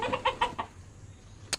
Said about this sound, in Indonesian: Kita akan melihat koloni ayam Elba.